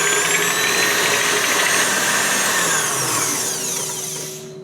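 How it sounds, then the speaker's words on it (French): An electric whisk beats egg yolks with sugar for a marble cake batter, a steady close motor whine with a high pitch that stays constant, then fades slightly near the end. "à l'aide d'un fouet, il faut bien mélanger"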